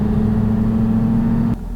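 A tuned 2020 Ford 6.7 Powerstroke diesel truck in manual mode launches in second gear with four-wheel drive. Its engine drones loud and steady, then drops abruptly near the end as it quick-shifts.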